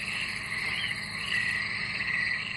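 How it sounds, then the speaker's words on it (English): A coastal wetland salt marsh hums with a dense, continuous chorus of croaking frogs, steady and fairly loud throughout with a faint insect buzz underneath. "That's the sound of a coastal wetland."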